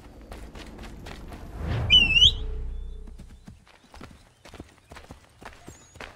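Horse hooves clip-clopping in Assassin's Creed 3, a steady trotting rhythm of moderate loudness with a brief high whistle and low rumble partway through.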